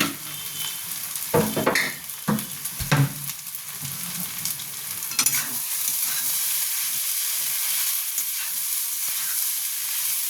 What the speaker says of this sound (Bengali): এবার এটাকে ভালো মতন ভাজবো।